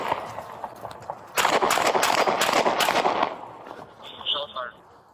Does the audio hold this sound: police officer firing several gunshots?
yes